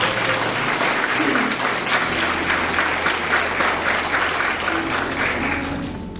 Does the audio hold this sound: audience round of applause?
yes